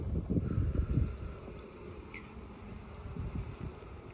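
Honey bees buzzing on a hive frame while a honey super is added, a low, steady, close hum of many insects with no voices.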